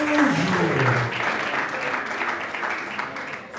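An audience applauds a singer, a steady wash of many hands clapping that fades slightly over a few seconds, with a voice briefly audible at the start.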